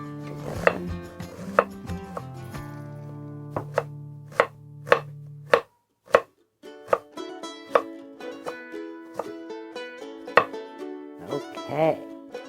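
Knife chopping and dicing food on a cutting board while preparing meat-lover's pinto beans and Brazilian rice: sharp rhythmic thwacks close by, steady at first then sporadic, with background music underneath.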